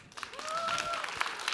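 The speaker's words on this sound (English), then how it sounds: "A round of applause to you." An audience claps for a presenter at a startup competition finals, a short burst of applause with a voice speaking over it.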